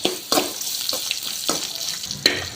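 Small shallots go into a hot pan and fry with a bright crackling sizzle. Sharp bursts come as they drop in and get stirred, close and fairly loud.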